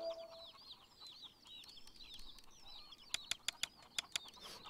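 Old chickens in the farming simulator Pure Farming 2018 cluck softly in a coop, with faint repeated calls and wing flutters, followed by a quick series of sharp clicking taps near the end.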